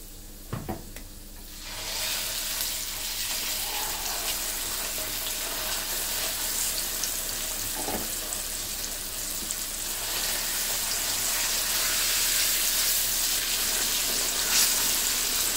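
Mashed olives for a pickle hit a hot pan after a couple of sharp clatters, then fry in a continuous sizzle that swells and grows slightly louder as it goes, with occasional faint spatters and no talking.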